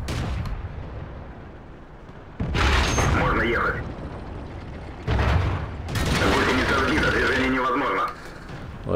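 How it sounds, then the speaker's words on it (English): A bishop unit fires in a video game as heavy booming shots land in two loud bursts with mechanical rumble between them, while someone talks over the action. "the bishop is still shooting at you"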